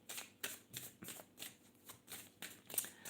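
A tarot deck being shuffled during a live reading, repeated soft riffling bursts in a quick steady rhythm, close and fairly quiet.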